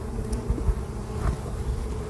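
Honey bees buzz steadily in a hive housing a queen, a continuous close drone with a few louder passes of individual bees near the comb.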